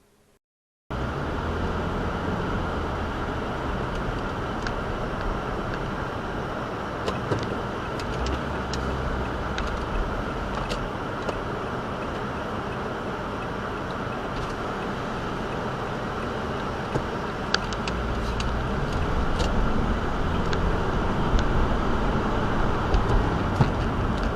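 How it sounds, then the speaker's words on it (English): An unmarked police patrol car drives past amid steady road and traffic noise, a continuous engine and tire rumble that swells slightly toward the end, with no talking. "Now on to the unmarked patrol unit carelessly driving like a blue privileged moron."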